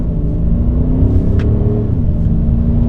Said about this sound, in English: Let's do an acceleration, 0 to 80, foot flat down in dynamic mode.